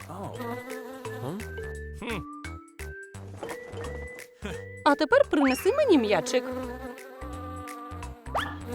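Fly buzzing around a prison cell, a wavering, pitch-sliding drone that swoops and rises while someone talks over it.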